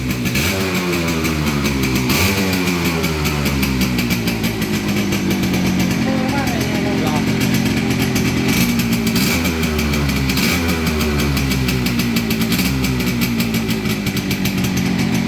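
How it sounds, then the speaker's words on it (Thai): A classic GP 125 motorcycle, also called the Sunshiro, idles steadily with a continuous, close, smooth engine drone and a loud, even rhythm throughout. "นี่ได้ยินเสียงกันไปแล้วเนาะ GP 125 หรือว่าซันชิโร่นะครับ"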